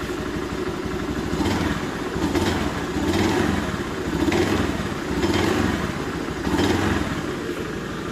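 A motorcycle with a dry clutch idles close by, its steady engine chugging overlaid with a metallic clutch rattle and gentle swells in engine note every second or so, with no talk.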